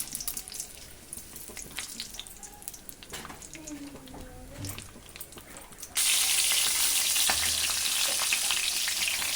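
Mustard seeds and cumin hitting hot oil for a tempering, a sudden bright sizzle bursting in midway and continuing strongly, preceded by quieter kitchen clatter and faint background sounds.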